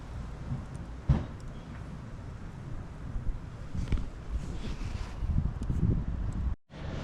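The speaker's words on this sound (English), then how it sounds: "It's real windy today" Wind gusts buffet the microphone at a beachside campsite with a steady rushing noise and faint rustling, briefly dropping out near the end.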